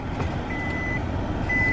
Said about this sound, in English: Sorry for the car beeping.